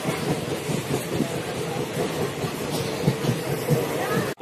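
A Tamil Nadu Express passenger train, number 12622, arriving at platform 3 of Delhi railway station, with a steady, loud rumble of moving wagons and faint rhythmic wheel clatter throughout.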